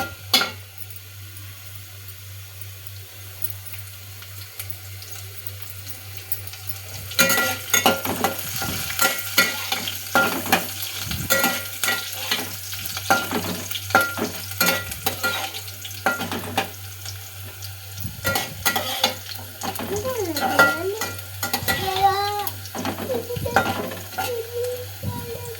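Potatoes and green chilies frying in a pan, a bright crackling sizzle that jumps louder as the chilies go in, with repeated stirring scrapes and clinks throughout, close up and no talking.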